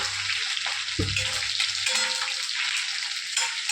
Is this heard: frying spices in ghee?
yes